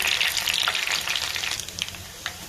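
Garlic fries in hot oil with sauces in a pan, making a continuous crackling sizzle with small sputtering pops throughout.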